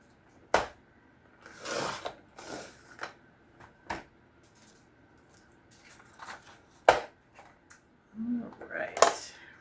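Scissors snip through material being trimmed for a retro 1950s-style recipe journal cover, in several short separate cuts scattered among quiet handling noises, fairly close and moderately loud.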